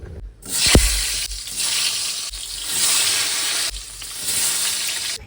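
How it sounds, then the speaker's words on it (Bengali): Pointed gourd (potol) frying in a pan at home, a loud steady sizzle and crackle of oil throughout, with brief stirring clatter near the start. "শুধু পটলটা ভেজে নেব হয়ে যাবে"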